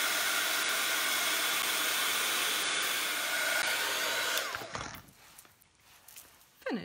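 A hair dryer blows steadily over a mixed media artwork for several seconds, a loud continuous whoosh that cuts off near the end, leaving a quiet room with faint handling sounds.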